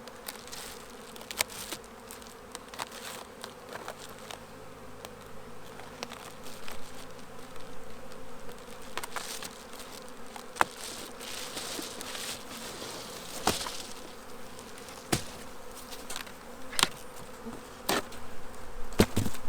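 Steady, dense buzzing of many honeybees close at hand in a hive, with scattered sharper buzzes of individual bees flying past.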